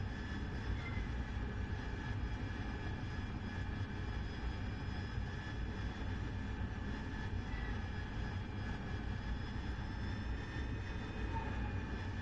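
An AV-8B Harrier jet engine in DCS holding a steady, even roar with a high whine running over it, fairly quiet and unchanging throughout.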